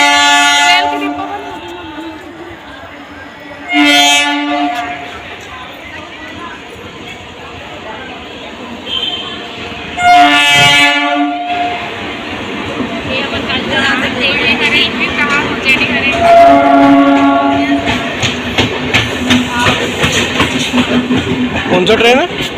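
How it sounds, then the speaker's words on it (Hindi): A train passes on Indian railway tracks with repeated loud horn blasts and a rumbling, clattering run of wagons that builds in the second half, while people talk over it. "कौन सा ट्रेन है?"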